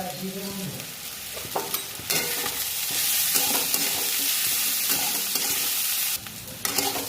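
Green chillies and chopped onion sizzle steadily in a hot pan for bitter gourd and potato fry, with loud continuous frying and a few sharp stirring clatters, no voice over it.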